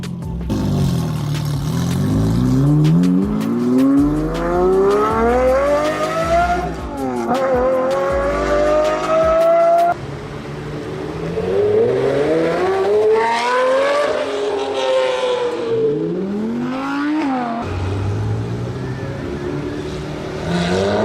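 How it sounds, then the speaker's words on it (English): Italian sports car engine revving through repeated climbs, from a deep bass rumble at low RPM to a high-pitched scream at high revs, loud and close, with rising and falling pitch sweeps and no talk. "has the incredible combination of deep bass at the lower RPMs and just this high-pitched scream at high revs"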